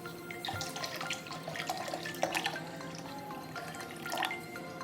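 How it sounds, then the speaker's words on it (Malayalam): Plain water poured into a mixer jar of rambutan juice, a light trickling, splashing flow with scattered drips, fairly quiet and close, without speech. "ഇനി ആവശ്യത്തിന് സാധാ വെള്ളമാണ് ചേർത്ത് കൊടുക്കുന്നത് കേട്ടോ"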